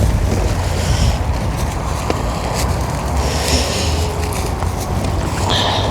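Strong wind gusting across an allotment plot, roaring and buffeting the microphone continuously at close range with a loud, rough rumble.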